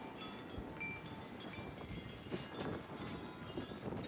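Strong wind gusts, up to 52 mph, blowing around a house with swaying trees: a continuous broadband roar and rush with faint rustling, steady throughout and fairly quiet, with no voices.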